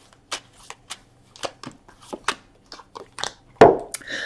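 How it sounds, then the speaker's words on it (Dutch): Tarot-style cards are shuffled for a weekly Scorpio horoscope reading, heard as a close series of irregular soft riffles and slaps ending in a louder flick. "De kaarten schudden om te kijken wat week 13 voor de Schorpioen gaat brengen."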